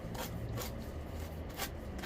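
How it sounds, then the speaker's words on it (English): A finger sander works on a Dollar Tree craft item with repeated rasping strokes, about four bursts of scratchy friction in quick succession at close range and no talking. "now we got our finger sander, and we're just going to go downwards"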